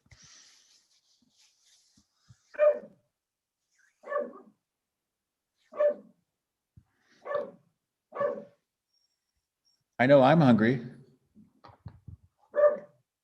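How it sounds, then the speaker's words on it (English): A dog barks in single sharp woofs, about six evenly spaced across the scene, fairly close and loud, with a brief burst of human speech between them. "My dog is barking in the background."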